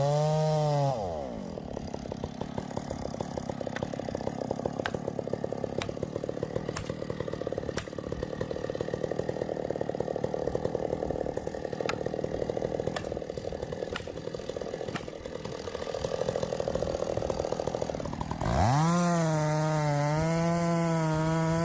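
A chainsaw roars through the trunk of a huge tree, its engine revving up at the start, then holding a loud, steady buzzing cut for about seventeen seconds before the pitch rises sharply as the blade breaks free and the engine races.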